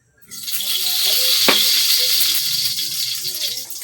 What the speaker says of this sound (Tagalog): So, magprito na po tag bulad.